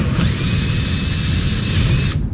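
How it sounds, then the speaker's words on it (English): A power drill whines loudly in one sustained high-pitched burst of about two seconds, boring a 5/16 hole through a factory body part on a 6th Gen Camaro ZL1 1LE during an aero package install. "we're going to drill a 5/16 hole through the factory part on both of these 2 holes"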